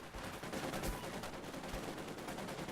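In the strategy game Company of Heroes 2, a sniper garrisoned in a church fires at infantry amid a busy battlefield, with a few sharp shots standing out over a constant rumble of distant combat.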